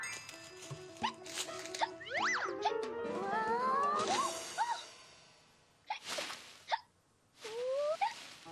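Cartoon character hiccuping in a children's animated episode, with several springy, bouncy hiccup noises and whooshing effects spread over the clip, some close together and others after short pauses, with no speech.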